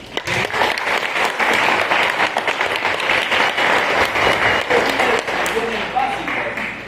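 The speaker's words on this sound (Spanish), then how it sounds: "Un aplauso." A lecture-hall audience during a histology class bursts into sustained applause, dense and steady clapping from many hands lasting several seconds.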